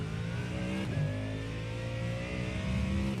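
A GT3 race car engine in iRacing at Misano drones loudly and continuously, holding a steady mid-pitched buzzing tone with small shifts in pitch as it accelerates, alone with no talk.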